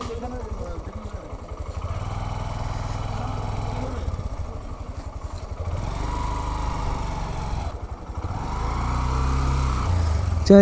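A 125cc motorcycle engine idles and revs steadily close by in a parking area near a beach, a continuous rumbling drone that rises toward the end, with faint voices underneath.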